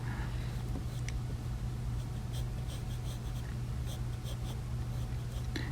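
Pencil scratching over paper while drawing tear ducts and eyelids on a portrait, a steady soft scribble of short strokes over a low constant hum.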